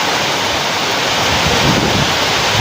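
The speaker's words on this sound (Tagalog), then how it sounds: "Puro ulan ng ulan at saka malakas ang hangin." During a typhoon, heavy rain and strong wind form a loud, dense, unbroken roar with gusty buffeting, and no voices are heard.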